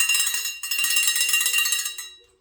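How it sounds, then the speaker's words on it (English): A metal Oshun bell rings with bright, sustained metallic tones, struck twice in quick succession and then left to fade out over a couple of seconds, heard alone and close. "you chose the Oshun bell"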